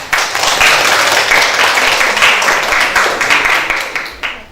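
A high school civics class applauds together in a classroom, a dense, steady patter of many hands clapping for about four seconds before tapering off.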